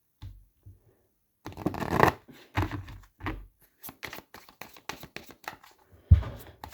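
Tarot cards shuffled by hand ahead of a final card draw: a long run of quick, crisp riffling and flicking close to the mic, with short pauses and a soft thump near the end.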